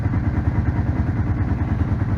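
Close up, the engine of a Kawasaki Prairie 700 ATV idles with the choke off, a loud, even, throbbing putter with a light clattering edge.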